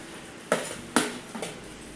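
Brinjal being sautéed with masala in oil in a pan, three distinct metallic spatula scrapes and clinks against the pan over a faint steady sizzle.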